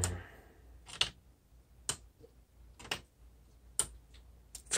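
A Wrebbit paper Peace Tower pendulum clock, freshly treated with Teflon dry spray lubricant, ticks loudly and sharply about once a second, each click crisp and isolated against a quiet room.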